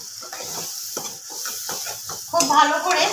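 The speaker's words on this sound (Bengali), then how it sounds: "এবার এর মধ্যে ওই কাজু নারকেলের পেস্টটাও দিয়ে দেব।" A cashew and coconut paste is stirred and fried in a pan for aloo dum: close scraping strokes and a soft sizzle in short bursts, then a louder hiss as the paste hits the hot oil near the end.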